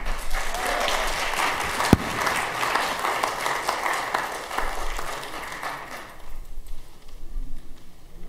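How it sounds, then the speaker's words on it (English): An audience at a Glencroft talent show applauds performer Don Sager with steady clapping from many hands that fades over about six seconds, leaving a few scattered claps and quieter room sound. "Please give a big round of applause for Don Sager."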